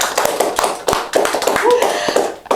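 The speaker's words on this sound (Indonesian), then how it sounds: "boleh tepuk tangan yang di studio" A small studio audience claps in sparse, irregular bursts, individual sharp hand claps standing out close and loud rather than a dense wash, with a brief voice sound partway through.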